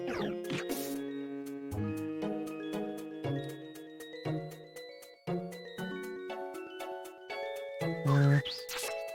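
Heal Bell move chimes in Pokémon Mystery Dungeon: Explorers of Sky ring out as a series of bright, ringing bell tones in a rising, tinkling sequence, each note sustaining briefly before the next strikes.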